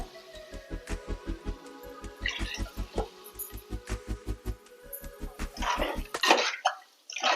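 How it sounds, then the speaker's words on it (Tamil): Water is poured into a pot of cooking fish curry near the end, a short rushing splash that follows a steady, low rhythmic thumping. "இப்போ குழம்புக்கு தேவையான தண்ணி சேர்த்துக்கலாம் ரெண்டு கப் தண்ணி சேர்த்துக்கோங்க"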